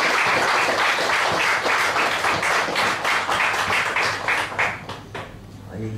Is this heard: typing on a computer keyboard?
no